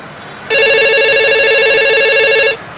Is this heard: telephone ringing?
yes